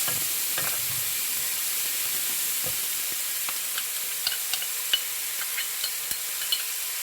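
Garlic, ginger and green chili paste frying in oil with curry leaves and hing for potato vada, producing a steady bright sizzle with scattered crackles and light stirring clicks. No voices.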